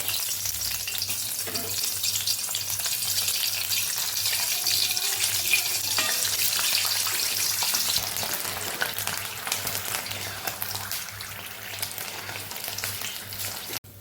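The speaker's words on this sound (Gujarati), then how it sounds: "આપણે મરચાં પણ તળી લેશું આમાં મેં કાપા પાડી લીધા છે" Slit green chillies fry in hot oil as a side for fafda-gathiya, giving a steady, close sizzle that runs evenly for the whole stretch with faint crackles and no talk.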